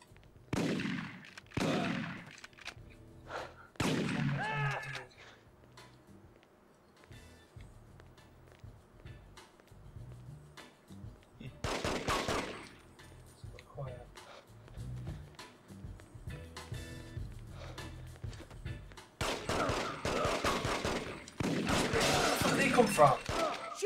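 Gunfire in the video game The Getaway, with loud bursts of shots and rapid volleys interrupted by quieter stretches, mixed with game effects and someone talking at intervals.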